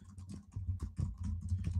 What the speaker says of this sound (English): I love typing live.